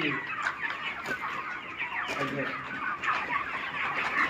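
Chickens cluck continuously at a rooftop poultry farm in Odisha, a dense flock chorus of overlapping clucks close by, steady throughout.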